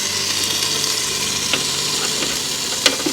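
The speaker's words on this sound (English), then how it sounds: "You can hear the sizzle." Turmeric-coated chicken breast sizzles in a hot pan, a close, steady crackling hiss with a few sharper pops of spattering fat and no voices.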